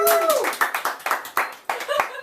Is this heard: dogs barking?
no